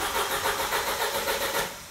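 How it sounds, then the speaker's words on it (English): An Audi A4 / VW Passat engine cranks without starting after its fuel pump fuse has been pulled, giving a loud, rhythmic, even starter churn close by that slows slightly at the end, with no talk. "now whenever we turn the engine over, it's not gonna start. I'll give this a crank."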